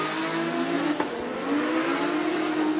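A drift car's engine howls and revs at Formula Drift Japan, a steady high-pitched wail rising and easing as the car throws itself through the corners, loud and alone with a brief sharp tick midway.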